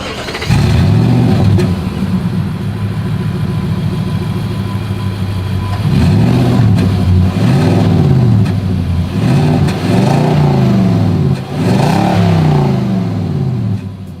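A loud Nissan Titan pickup truck engine starts, idles roughly, then revs repeatedly in deep rising and falling bursts from the exhaust, close and powerful.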